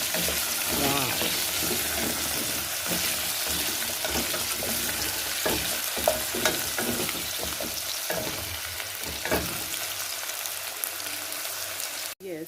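Food for a baby's meal fries in a pan while being stirred until the edges brown: a loud, continuous sizzle with repeated scraping and tapping of the spoon throughout.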